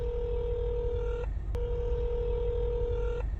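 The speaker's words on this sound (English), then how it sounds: "The phone rings endlessly with no voicemail." Two long steady phone ringback tones with a short gap between them, from a call to an auto body shop that goes unanswered, heard over a low background hum.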